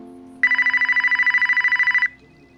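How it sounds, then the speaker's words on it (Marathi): A telephone rings in one continuous burst of rapid trilling pulses, loud and close, lasting under two seconds before cutting off, with a faint low hum underneath. "तेवढ्यात त्याला एका अज्ञात नंबरवरून फोन आला"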